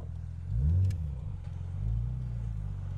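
A rear-wheel-drive car fitted with ICAS four-wheel steering revs up with a deep, close engine rumble, swelling in two surges before settling into a steady drone.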